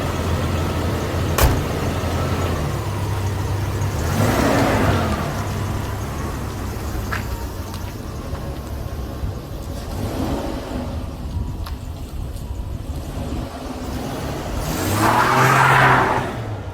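A 1976 Jaguar XJ6 Series 2 on a test drive, its engine droning steadily from inside the cabin with road rumble, rising in a few revving surges as it accelerates through the gears.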